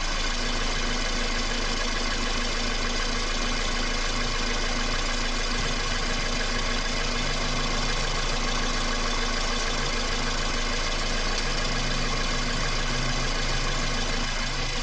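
A Toyota engine idles steadily and continuously at close range, with a constant low hum and droning harmonics, during an automatic transmission fluid check with the vehicle running. No one speaks.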